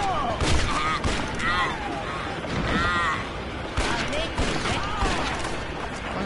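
Gunfire in the Western video game Red Dead Revolver, loud shotgun blasts and shots scattered over a noisy, busy game mix, with a voice talking over much of it.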